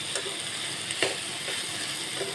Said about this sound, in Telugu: ఆ ముక్కల్ని శుభ్రంగా తాలింపులో వేసుకొని కలుపుకోవాలి